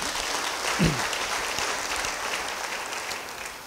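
A church congregation applauds steadily, a dense wash of clapping that continues throughout, with no talking.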